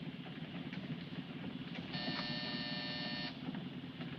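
An electric buzzer sounds for about a second and a half inside a moving vehicle, a steady harmonic drone riding over the rumble of engine and road noise.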